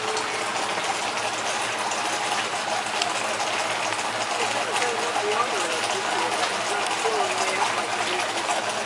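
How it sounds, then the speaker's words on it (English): A small garden waterfall spills over flat stones among greenery and flowers, making a steady, continuous splashing rush close by, with people chatting over the water. "it's like a waterfall with another waterfall"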